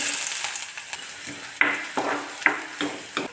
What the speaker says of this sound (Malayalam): ഉള്ളി മൂപ്പിക്കാൻ വേണ്ടി ചീഞ്ചട്ടി വെച്ചു അതിൽ വെളിച്ചെണ്ണ ഒഴിച്ചു കൊടുത്തിട്ടുണ്ട് ഇനി ഇതിലേക്ക് ചുവന്നുള്ളി അരിഞ്ഞത്